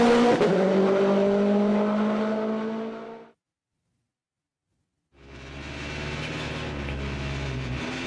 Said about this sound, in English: this is our chance to drive the Pro Drive built SPI Subaru